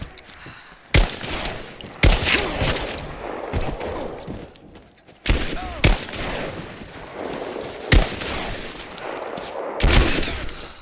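Gunfire from the video game Rise of the Tomb Raider at a Soviet base: loud, repeated shots and bursts at irregular intervals, some sharp and close, with a battle din between them.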